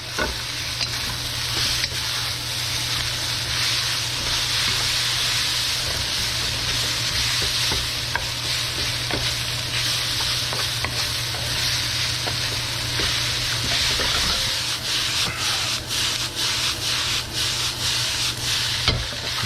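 Vegetable lo mein is tossed and stir-fried in a wok with a spoon, producing a loud, continuous sizzle with constant scraping and rubbing and frequent sharp clinks of metal against the wok.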